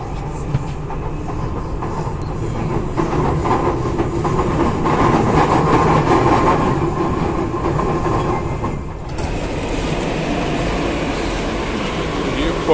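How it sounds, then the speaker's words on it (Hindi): A metro train runs steadily with a loud continuous rumble and rhythmic clatter of wheels, dipping briefly before resuming its hum. "हमारी मेट्रो भी जो है ना आ चुकी है"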